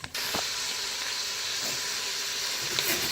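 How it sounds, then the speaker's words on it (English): Carrots and onion cooking in melted butter inside an Instant Pot give off a steady, even sizzle and hiss that runs unbroken and fairly close, with no voices. "So I have added my vegetables to the pot with the butter. I'm going to go ahead and saute these"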